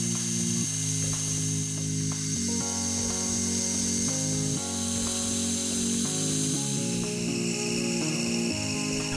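A metal lathe turns a small steel pin in a machine shop, a continuous mechanical hum with shifting tonal steps and faint scraping as the cut changes, steady and fairly loud throughout with no talk.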